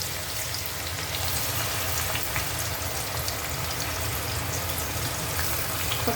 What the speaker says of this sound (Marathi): आता मी टाकते त्याच्यात कांदा टाकते